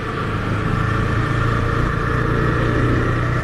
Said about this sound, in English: we can easily hear the engine sounds